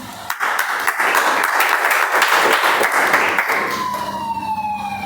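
A police siren sound effect at a Toastmasters meeting, its falling wail emerging near the end over a dense, clapping-like wash of broadband noise that fills most of the few seconds.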